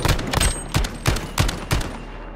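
Video game gunfire in a 2v2 match: a string of sharp, loud shots in quick irregular bursts, about six distinct reports close by with no talking.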